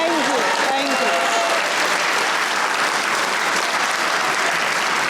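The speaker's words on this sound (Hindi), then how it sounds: "सब ऑडियंस में बैठे, इनके लिए तालियां होनी चाहिए" A studio audience fills the room with dense, sustained applause, loud and constant from start to finish, with a voice briefly audible under the clapping at the beginning.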